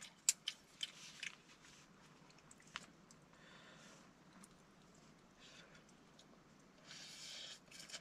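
Cooked spicy food being eaten outdoors at a bamboo forest camp, with faint crunchy bites and soft chewing, a few sharp clicks early on, heard close and quiet.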